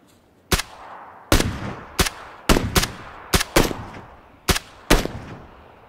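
Video-game gunfire in PUBG Battlegrounds: nine sharp single shots fired in an uneven, spaced rhythm, each a loud crack with a brief echoing tail over quiet background.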